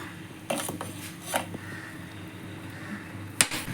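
Lemon rasam is stirred in a pot after lemon juice is squeezed in, with a few sharp metallic clinks of spoon against the vessel spaced apart over quiet background.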